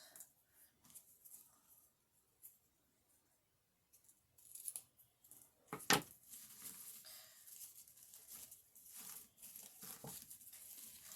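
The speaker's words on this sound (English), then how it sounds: "You want to trim up any of your tails." Scissors trim cord tails on a handmade macramé-style anchor wall hanging, quiet snips and light rustling of cord close by, sparse and irregular, with one sharper snip partway through.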